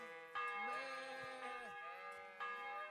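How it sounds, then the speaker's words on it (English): A church bell tolls in Kingdom Come: Deliverance, two ringing strikes with long humming overtones that fade between blows, and a voice talks briefly over them. "As if the bell's still going."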